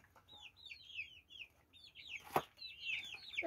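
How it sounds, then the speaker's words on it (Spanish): Young hens clucking and peeping in a backyard flock, several overlapping chirpy calls near at hand with one sharper squawk midway, steady chatter throughout and no talking. "Estas son las pollitas"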